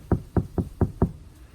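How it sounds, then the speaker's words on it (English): Five dull, muffled knocks on the steel door of a Ford Ranger Raptor after sound-deadening material has been fitted, struck at a steady rhythm close by with no talking. "So you can hear how it's a dull thud."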